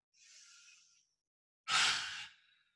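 A deep breath during a yoga flow: a soft airy inhale, a brief silence, then a louder, fuller sighing exhale that fades out, close and alone.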